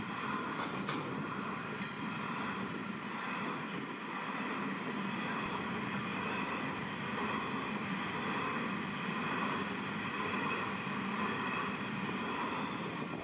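Long coal freight train hauled by multiple locomotives passing in the Bylong Valley, New South Wales, a steady continuous rumble and rolling roar that holds at an even level throughout with no voices.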